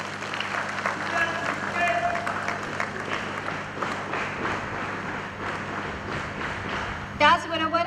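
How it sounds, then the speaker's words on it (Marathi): Audience clapping for NCC cadets at a college flag-salute event, a dense crowd applause under an amplified voice, with a sharp burst near the end. "पुन्हा एकदा आपण सगळ्यांनी टाळ्या वाजवून त्यांना प्रोत्साहन देऊयात."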